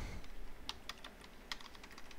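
Typing on a computer keyboard while working in a server command-line interface, with a few sharper distinct key presses standing out among light, close clicks.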